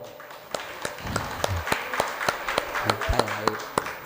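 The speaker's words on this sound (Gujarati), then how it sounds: "તો એને પણ જોરદાર તાળીઓથી વધાવો." Scattered, sharp claps ring out at a Bhagavat Saptah religious gathering in Upleta, spaced unevenly and moderately close, while a voice and general crowd murmur continue underneath.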